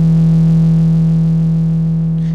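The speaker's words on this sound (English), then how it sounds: "now you're hearing both oscillators on Volca Modular." A Korg Volca Modular synth drones with both oscillators sounding together, a steady, loud, sustained bass tone with a buzzy harmonic-rich timbre and a slight pulsing texture, heard alone.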